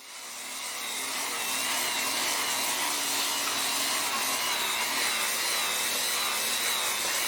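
Power sander with an 80 grit pad working a boat's sanding deck, a steady broadband whir that rises within the first second and holds loud and even throughout, with no voices.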